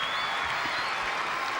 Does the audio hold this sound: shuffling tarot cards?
no